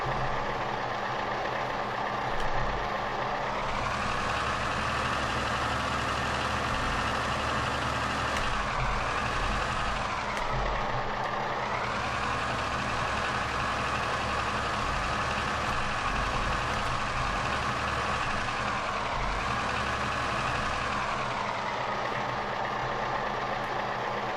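A tractor engine in Farming Simulator 15 runs steadily for the whole stretch, its droning hum rising and falling gently as the revs change, close and continuous with no voices.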